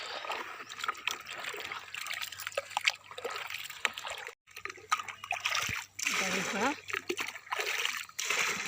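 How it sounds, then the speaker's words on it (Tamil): Liquid fertilizer scooped from a container and poured onto the ground, making repeated splashing and sloshing bursts with trickles between them, close by, while a person talks over much of it. "அப்படியே தரையில் ஊற்றுறதே நம்ம மோந்து மோந்து அப்படியே ஊற்றி விட்டுடலாம்"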